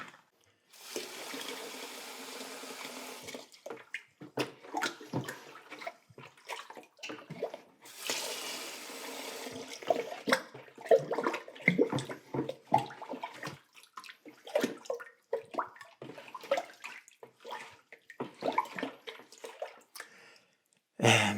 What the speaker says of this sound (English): I'll add a little bit more water before I test it.